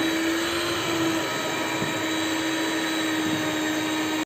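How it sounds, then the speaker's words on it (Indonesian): An electric mixer kneads bread dough for soft bakery-style rolls, a loud, continuous motor whine that holds steady the whole time. "Mixer hingga benar-benar kalis elastis ya teman-teman."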